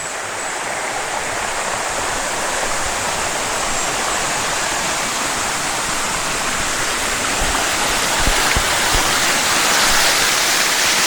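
A waterfall in the Philippines, a loud, close, unbroken roar of rushing water that holds steady from start to finish with no talk.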